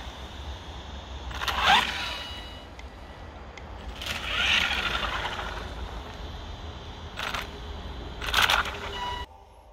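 A GoolRC brushless motor system in an Arrma Granite Mega 4x4 RC car cogs, giving several loud, rough bursts of stuttering motor noise between quieter pauses. The car is close by.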